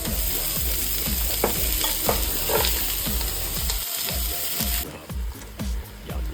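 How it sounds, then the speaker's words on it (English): Carrots and onions for braised venison shanks cook in a pan, giving a steady, close sizzle broken by repeated scraping and stirring knocks that quiet toward the end. "then we'll cook the carrots and the onions. They go in next, and we'll cook those for 3 minutes"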